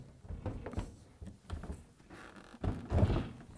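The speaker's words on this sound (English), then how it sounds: "I'm going to bring in the door and place it on the hinge" A door is lifted and set onto its hinge, with several dull wooden thunks and knocks building to a heavier clunk near the end, close by and with no talking.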